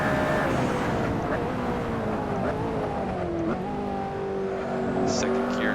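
McLaren P1 engine in the racing game Assetto Corsa: a loud, continuous high-pitched whine that climbs and drops with gear changes, with a brief dip mid-clip before it pulls steadily again.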